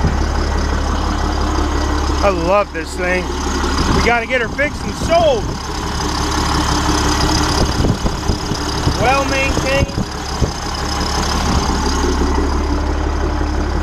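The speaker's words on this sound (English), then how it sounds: "This is a hell of a beast engine." A former school bus's big diesel engine idles loudly and steadily with a deep, rough rumble throughout, while someone talks over it.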